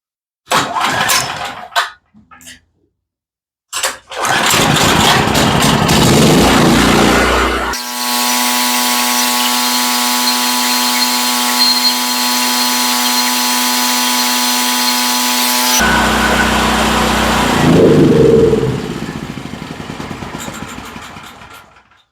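A Generac GP8000E portable generator engine cranks, catches and runs loudly at a steady, buzzing pitch for several seconds, then stops and winds down with some rattling.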